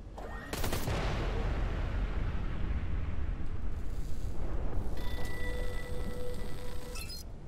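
Gunfire rattles in the space shooter Everspace 2, with a sharp crack at the start followed by a sustained dense barrage of shots and clinking tones, loud and close.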